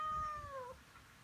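A pet cat lets out a single drawn-out meow close by, its tone sliding downward before trailing off into a quiet room, with no voices over it.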